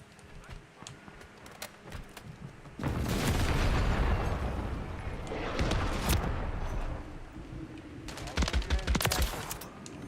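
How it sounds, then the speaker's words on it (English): A hostile airstrike in a first-person shooter video game lands with loud, sustained roaring blasts and rumbling explosions, easing off briefly before another cluster of sharp bursts. "Hostile airstrike near your location."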